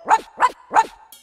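Three evenly spaced dog barks ring out loud and close in an animated alphabet circus scene, each a short bright bow-wow, with no talking over them.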